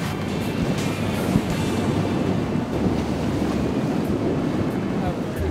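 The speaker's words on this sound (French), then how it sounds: "as you can see, the surf's pumping, but the wind's like slightly too offshore" Surf crashing with strong wind buffeting the microphone at a Cabo Verde windsurf spot during a PWA World Tour event, offshore breeze; a steady, loud roar of waves and gusts throughout, with no clear talk.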